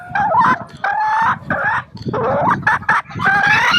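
Crested bantam chickens, including a young hen just starting to lay, calling loudly and close by in a continuous run of crowing and clucking phrases, with no one talking.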